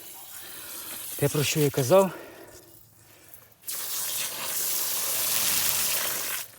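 A short spoken phrase, then a steady broadband hiss of water spraying from a hole in drip irrigation tape at an emitter, continuing evenly to the end.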